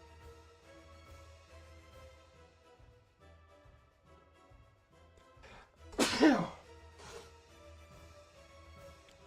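A single loud sneeze bursts out about two-thirds of the way through, sharp and close, over faint background music during a Minecraft livestream, with no talk around it.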